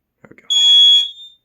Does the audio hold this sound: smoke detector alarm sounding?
yes